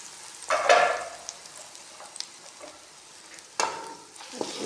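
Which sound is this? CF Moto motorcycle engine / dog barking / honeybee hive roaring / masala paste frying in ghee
masala paste frying in ghee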